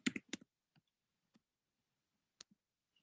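A few sparse clicks of typing a password on a computer keyboard, quiet and close, with a quick cluster at the start and then isolated taps.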